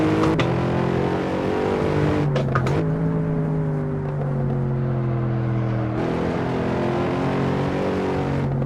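A racing car engine in a racing video game roars steadily, its pitch sliding down and jumping back up as gears shift, continuous and loud with no talking.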